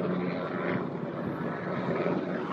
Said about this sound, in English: I feel like that's the Marine One helicopter that you hear.